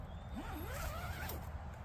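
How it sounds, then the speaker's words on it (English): Quiet double zipper on a Hilleberg Enan tent, a soft sliding zip drawn along the fabric over about a second, close and faint against low background noise. "It's got a double zipper here"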